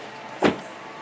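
The rear seat centre section of a Porsche Macan Turbo folds down on its own with one short motorised whir and soft thud against a quiet cabin.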